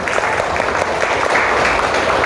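Applause for everyone at the close of a lesson, steady dense clapping from a group filling the whole stretch, loud and close with no talk over it.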